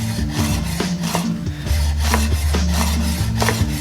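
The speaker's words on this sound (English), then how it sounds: "if you have a really sharp knife, the knife will just do its work for you. And just nice thin slices." A very sharp knife slices rolled-up fresh basil into thin ribbons on a cutting board, giving a steady series of soft close rasping cuts and light board taps with an underlying low hum.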